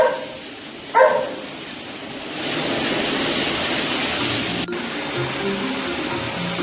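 A pet dryer blows cool air over a dog during grooming, a steady broadband whoosh that swells in after a few seconds and holds loud and continuous, with a brief soft yelp-like sound early on.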